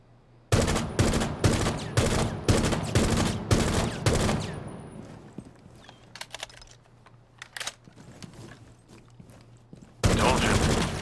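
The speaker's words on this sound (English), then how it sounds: "You can shoot through this kind of surface to take out a target on the other side." Rapid bursts of gunfire ring out in Rainbow Six Siege as shots are fired through a wooden wall, clustered volleys, then a quieter stretch with scattered shots before a loud burst resumes.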